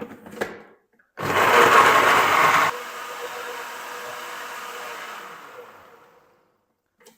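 An electric blender grinds green chilies, garlic cloves, ginger pieces and a little water into a fine paste. It gives a loud, close roar for about a second and a half, then a lower whirring spin-down that fades out.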